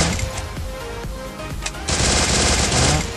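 An MP40 submachine gun fires in rapid automatic bursts in a video game, sustained rattling gunfire that runs almost continuously, loud and close, with a denser volley toward the end.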